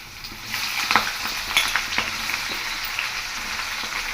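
Onions going into a hot frying pan with green chillies and coriander seeds for puri masala, giving a steady close-up sizzle with scattered crackles and a stirring scrape.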